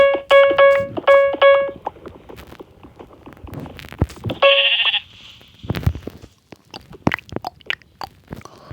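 Sheep in the Minecraft video game bleat in two quick bursts early on, then once more midway, loud and close over scattered clicks and chewing-like game noises with no talk.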